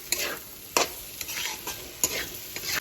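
Banana flower curry being stirred in a pan after salt is added, with repeated scraping strokes of a spoon against the pan over a soft sizzle, close and without talk.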